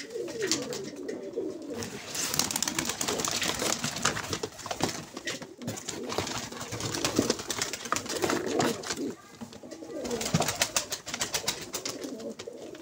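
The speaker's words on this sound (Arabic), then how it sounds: "هذا الطير العراقي مالتنا" Iraqi pigeons coo in a steady, low, throaty rolling series, close up against a noisy indoor loft background with faint rustling, continuing throughout without clear speech.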